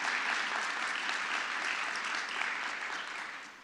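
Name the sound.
audience clapping for new board members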